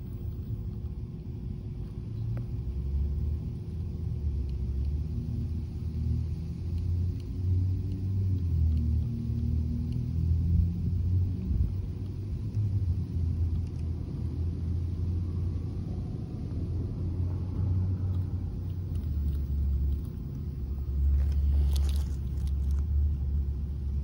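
Traxxas High Trail F150 RC truck with a Hobbywing Fusion Pro 2300 motor crawling at a slow constant cruise speed, a steady low motor rumble and drivetrain whine holding even throughout, near and alone.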